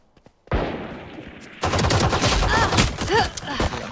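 Rapid bursts of gunfire in the video game Valorant, first quieter then suddenly loud and dense, with a few sharp whistling tones mixed in.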